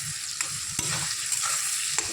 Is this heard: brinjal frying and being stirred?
yes